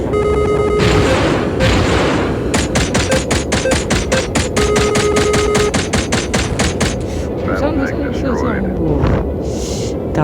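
Explosions and rapid gunfire from air strikes on a war tank in a video game, with loud booms and bursts of fire packed densely together while someone talks over the action.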